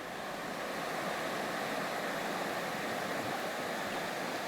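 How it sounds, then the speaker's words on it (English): The North Fork of the Trinity River flowing at a trail ford in the Trinity Alps Wilderness: a dense, steady rush of moving water, constant and fairly close, with no voices. "the trail fords the North Fork of the Trinity River right here"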